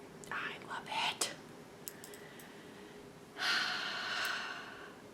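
A person yawns with a long, drawn-out breathy exhale in a quiet room, preceded by a few soft breaths and whispery sounds, close and fairly quiet.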